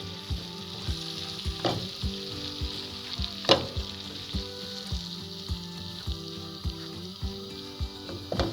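Flour roasting in oil in a pan for Turkish flour halva, with a constant gentle sizzle and a spoon scraping in a steady repeated rhythm, close up, with one louder clatter and no speech.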